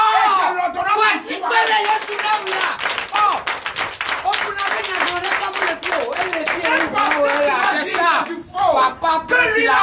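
Dense, continuous clapping from a congregation at a Sunday church service in Comé, Benin, loud and close, with voices talking and calling out over it throughout.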